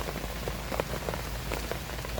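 Heavy rain during a storm in a humid jungle, a dense, close, steady patter of drops striking surfaces with no talk.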